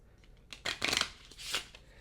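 Close riffle shuffle of a tarot oracle deck, a single quick burst of crisp card flutter swelling and fading, alone with no voices.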